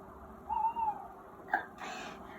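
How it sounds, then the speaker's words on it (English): An owl hoots in a garden at night, two soft wavering calls close together followed by a brief sharp note, faint and distant against a quiet outdoor background with a low hiss. "we have an owl in the garden"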